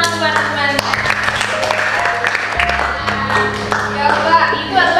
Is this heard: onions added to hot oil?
no